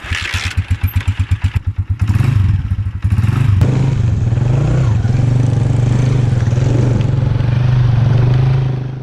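A motorbike is started up and ridden: a rapid run of close put-put firing pulses gives way to a steady, loud engine drone. No one talks.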